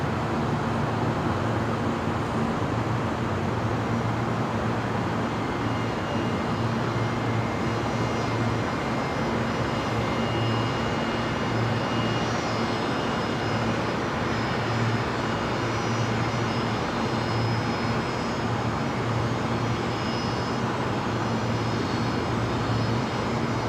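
An airliner at Brisbane Airport drones steadily at a distance, a continuous broad engine roar with faint background traffic noise and no talk.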